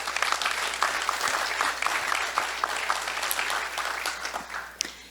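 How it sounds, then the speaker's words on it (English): An audience claps steadily for several seconds, a full, sustained round of applause from many hands. "please give a big round of applause"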